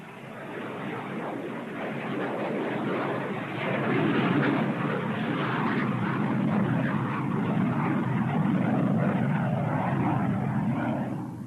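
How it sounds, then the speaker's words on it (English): An Antonov An-22, the huge four-engine turboprop military transport, drones loudly and steadily with a dense, rumbling roar that swells slightly and holds without voices. "the Antonov 22 remains the largest turboprop in the world"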